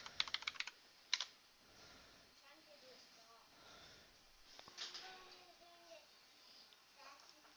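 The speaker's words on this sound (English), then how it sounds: "I'm typing here." Typing on a computer keyboard: a quick cluster of faint clicks and a sharper tap near the start, then a quiet stretch with soft talking and room noise.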